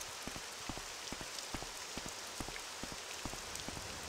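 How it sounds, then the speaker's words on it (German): Rain falls in the video game Morrowind, coming down through a ceiling: a steady, soft hiss of rainfall dotted with frequent small drip and patter taps, with no talking. "Schön, dass das durch die Decke regnet."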